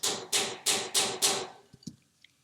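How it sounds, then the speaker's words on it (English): Five sharp, evenly spaced hammer taps drive a pin into a trigger seated in an armorer's block, close and crisp, followed by a few lighter, fainter knocks as the work settles. "I'll proceed to press the pin downward with a hammer"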